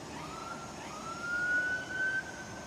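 A police patrol siren sounds outside, far off and faint, as a thin steady wail rising slightly over a washy background hiss.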